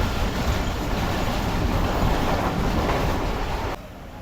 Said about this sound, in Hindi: इस वक्त हमारी ट्रेन तकरीबन 2 मिनट रुकने के बाद निकल रही है ढहर की रेलवे स्टेशन से